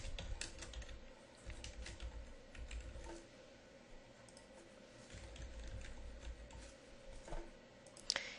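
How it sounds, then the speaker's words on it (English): Typing on a computer keyboard, a soft, fairly quiet run of irregular key clicks that goes on steadily with brief pauses and ends in a sharper click, with no talking. "you just type likes this into the box and add comment."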